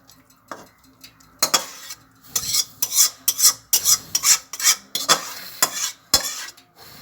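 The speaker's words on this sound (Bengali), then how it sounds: "সিমের শুটকি রান্না শেষ, এখন আমি এটা বাটিতে ঢেলে নিব" Cooked dried bean-and-fish curry being spooned from a pot into a bowl: a series of sharp metal spoon scrapes and clinks against the pot, loud and close, in irregular bursts with brief pauses between.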